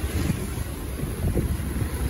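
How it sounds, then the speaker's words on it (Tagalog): Strong typhoon wind roars steadily across the microphone during street flooding, a dense, continuous low rumble with gusting buffeting and no break. "ang lakas ng hangin."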